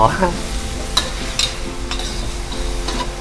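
Minced beef with holy basil and stink beans stir-fries in a hot pan, a loud continuous sizzle broken by several sharp spatula scrapes and clacks, heard close up and without speech.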